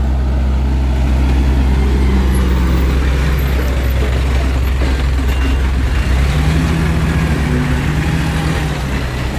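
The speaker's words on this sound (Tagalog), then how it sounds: "Mga sasakyan." Road traffic on a sunny street near a construction area, with a steady loud engine rumble of passing cars and trucks filling the scene throughout.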